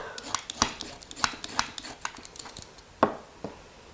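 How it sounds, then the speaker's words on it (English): A hand peeler scrapes along carrots in a kitchen with quick, light, irregular strokes, each a short crisp rasp close to the listener, with a louder stroke near the end. "I'm going to peel 2 carrots."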